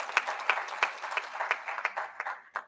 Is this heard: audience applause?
yes